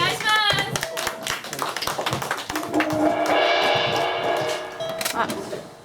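A crowd claps in a steady, rhythmic beat along with a performance at the Cosquín 2025 folk music festival, the sound dense and loud, with voices mixed in over the clapping.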